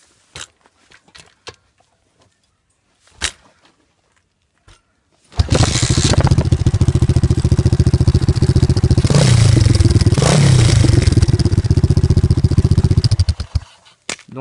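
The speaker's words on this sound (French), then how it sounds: "mon pote va la démarrer comme la dernière fois pour la présentation de la dirt" A dirt bike with its baffle fitted is kick-started after a few scattered clunks, then catches and runs loud and close, holding a steady buzzing idle with a couple of throttle blips before cutting off.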